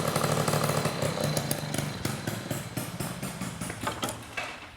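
Small Honda Motocompo scooter engine running roughly, a buzzy, sputtering putter with irregular pops and surges close by, fading unevenly toward the end.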